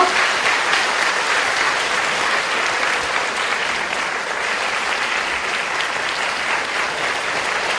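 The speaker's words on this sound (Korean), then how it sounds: "큰 박수 부탁드릴게요" Sustained audience applause welcoming three professors onto the stage at a book concert, a dense, steady clapping from a full crowd that carries evenly through the whole stretch without a break.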